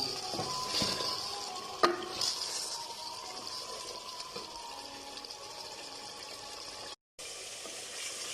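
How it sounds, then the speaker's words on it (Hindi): Meat frying in oil in a pan before turnips are added, a steady hiss of sizzling with a few sharp clinks and stirring scrapes, fairly close and continuous, cutting out briefly near the end. "अब मैं इसमें ऑयल 2 चम्मच भर के डाल दूंगी और इसको अच्छी तरह से भून लूंगी।"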